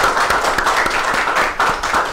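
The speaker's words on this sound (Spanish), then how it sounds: "queremos pedirle un aplauso para Adriano Espaillat." An audience claps for Adriano Espaillat at a panel discussion, with a steady dense patter of many hands and a few sharper individual claps standing out near the front.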